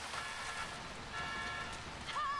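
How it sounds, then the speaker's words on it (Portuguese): Rain falling in the video game GTA V, a steady soft patter that holds at an even level throughout, with a faint whistling tone near the end and no clear speech. "estou embaixo de chuva."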